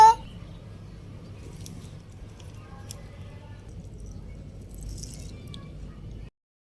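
Soft, steady squishing and sloshing as rice for khichuri is rubbed and rinsed by hand in water, close and low, running continuously before stopping abruptly.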